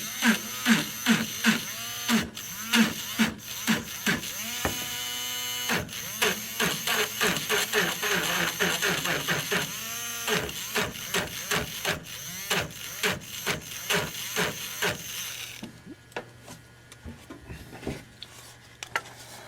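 Parkside engraver scratching initials into an old, knackered piece of wood: a rapid series of short buzzing, rasping bursts with brief gaps, close and fairly loud, then tapering into a quieter hum at the end.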